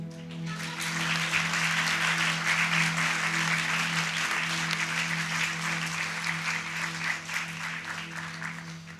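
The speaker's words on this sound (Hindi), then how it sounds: "हम क्या पराए इनके लिए ताली बजाए आप?" Sustained audience applause at a Hindu spiritual talk on Lord Ram, rising quickly and continuing steadily and loudly for several seconds, with a steady low hum underneath.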